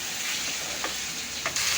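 Potatoes and spinach being stirred in a cooking pan for aloo palak, a steady soft sizzling hiss with a couple of faint scraping strokes, no talk.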